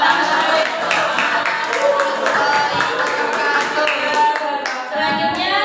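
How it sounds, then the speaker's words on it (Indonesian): Classroom students clapping together after a group presentation, a lively, uneven patter of many small hands with faint chatter mixed in, steady throughout. "Ayo anak beri tepuk tangan"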